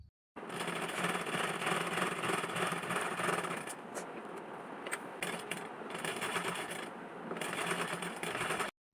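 Fabric for palazzo pants is double-stitched on a sewing machine, whose fast, loud mechanical clatter runs almost continuously for nine seconds, with a few brief slowdowns and pauses while the cloth is turned.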